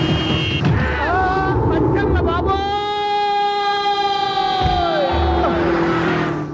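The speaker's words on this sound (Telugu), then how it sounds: "సైరన్నే కొట్టాడు" A siren wails in a comedy film scene, its tone gliding and then holding a steady pitch before sliding down near the end, loud over a background rumble.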